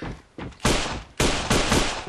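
Pistol shots in the shooter A.V.A: a few sharp, loud reports in quick succession, each with a short tail, and no talk over them.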